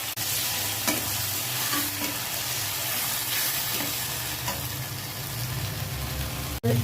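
Spice paste frying in a pan with already fried tomatoes and onions for a spicy fish curry, sizzling steadily and loudly with a stirring spoon scraping throughout and a brief clatter near the end, no voices.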